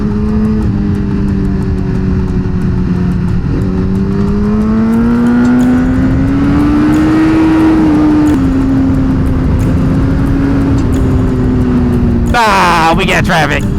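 A motorcycle rides a curvy road, its engine droning loud and steady with rising and falling pitch as it leans through bends, wind noise throughout, and a sharp burst near the end.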